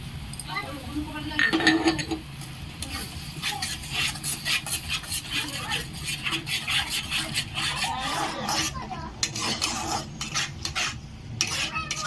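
A spatula stirs and scrapes potatoes with yogurt in a pan while cooking Kashmiri aloo dum, with steady rhythmic scraping and metallic clinks under a low sizzle, close and fairly loud, with a voice speaking early on.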